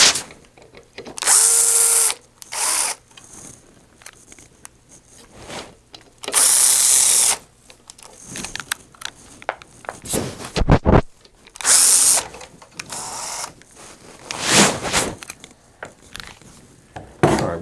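A power driver backing screws out of a Phoenix DryMAX blower bracket, several loud whirring bursts of a few seconds each separated by quieter pauses with faint handling clatter.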